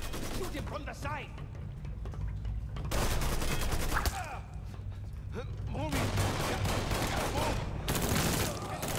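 Dense gunfire in the Mafia 3 Definitive Edition video game: sustained bursts of loud rapid shots and volleys, near and continuous, with brief gaps between bursts.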